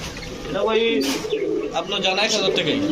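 Green Musaldom pigeons coo repeatedly at a pigeon market, their rolling calls rising and falling close by while someone talks loudly over them.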